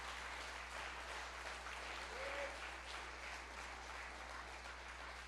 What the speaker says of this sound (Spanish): Dale un aplauso al Señor si se lo vas a dar.